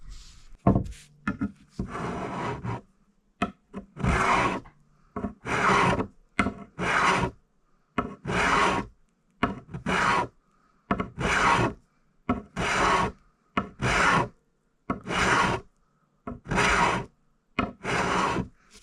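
A file rasps across the wooden neck of a Stratocaster guitar being scalloped, in about fifteen short back-and-forth strokes with brief pauses between, close and crisp, with no talking.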